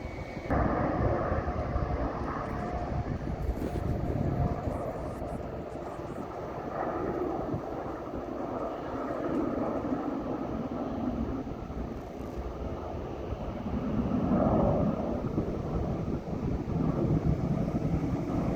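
Airport jets taxiing in a line on the ground produce a steady, broad engine rumble and whine that swells and fades slightly, heard from a distance outdoors with wind buffeting the microphone.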